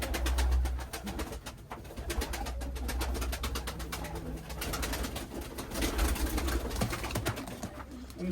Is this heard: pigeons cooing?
yes